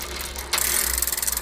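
Bicycle rear gears shifting on a bike being repaired after a stem stuck in the fork, giving a close, steady run of quick ratcheting clicks as the freewheel turns.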